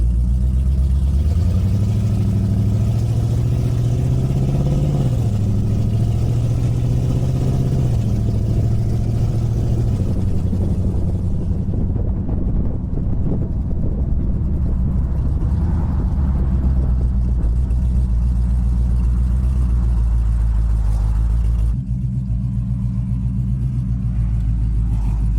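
A 2014 Jeep Grand Cherokee engine runs with its exhaust setup, a steady close-up low rumble with a rise and fall in pitch early on, then settling into an even idle-like drone with no talk.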